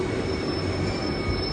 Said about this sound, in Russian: Метро очень удобный транспорт.